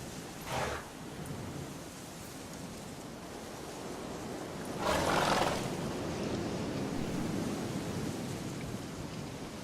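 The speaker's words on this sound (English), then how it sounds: "Wow, looks like a storm's brewing." Soft, steady rain hisses in a gathering storm in The Witcher 3, broken by two brief bursts of thunder or wind, the second stronger and lingering; no one speaks.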